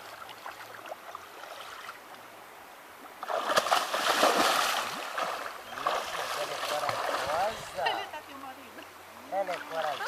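Water splashes and sloshes at a waterfall pool as a fully clothed person wades in, with bursts of louder splashing over a running-water backdrop while people talk.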